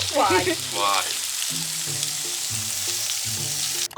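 Pork sizzles and crackles steadily on a hot pan at a Thai-style tabletop grill, with a brief voice at the start and soft music playing underneath.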